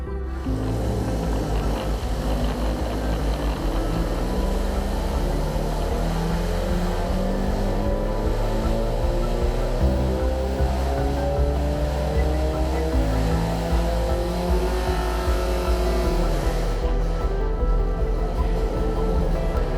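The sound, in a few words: car engine running on a dyno during baseline run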